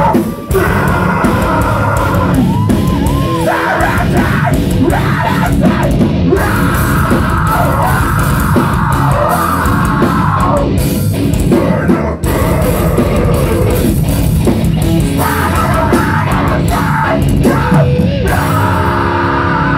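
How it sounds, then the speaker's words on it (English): A concert crowd at Fryshuset screams and yells continuously during a metal show, a loud dense roar of many voices layered over the band's playing with barely a break. "I wanna hear your screams, Zach."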